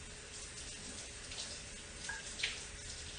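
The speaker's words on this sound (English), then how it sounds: "So I'm gonna rinse the top of this actually." Water runs from a tap over the top of a drink container in a steady, soft splashing stream with a couple of brief brighter splatters near the end.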